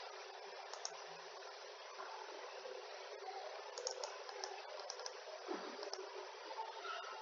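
Computer mouse clicking: a few soft, scattered clicks, some in quick pairs like double clicks, muffled and faint over a constant hiss.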